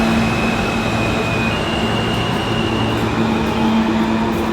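An R160 Siemens M train on the New York City subway at the Lexington Avenue–53rd Street station produces a loud, steady underground rumble with tonal motor hum, continuous throughout.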